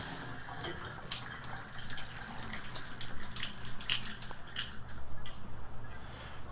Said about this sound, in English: it looks like the water flows out of the shower head pretty good